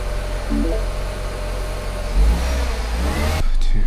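A 2011 Mini Cooper S turbo engine with random misfires revs up from a low rumble, close and loud, its pitch climbing and the sound turning rougher near the end.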